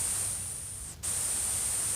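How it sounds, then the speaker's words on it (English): Steady hiss of white and pink noise from a Behringer 2500 Eurorack synth module, loud and continuous, with a brief dip near the middle as the setting switches. "When I turn it to the left, you have white noise."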